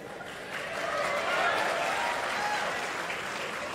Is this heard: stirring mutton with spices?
no